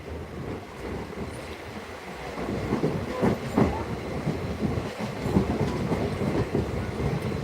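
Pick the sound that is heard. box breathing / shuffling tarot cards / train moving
train moving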